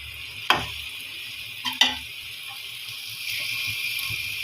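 Baingan bharta with tomatoes cooking in a pan, a soft continuous sizzle under a few sharp clinks of a utensil against the pan, quiet and close with no talking.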